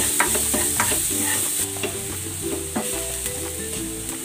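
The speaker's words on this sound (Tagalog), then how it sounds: "Gisa ko na tong bawang." Garlic sautéing in reduced oil in a pan for chicken pochero, a steady close sizzle with repeated stirring scrapes and clinks throughout.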